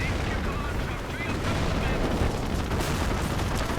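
Gunfire and battle noise from a WWII real-time strategy match with grenadiers, Panzers, Staghounds and Fireflies, a dense continuous rumble of shots and explosions throughout, loud and steady.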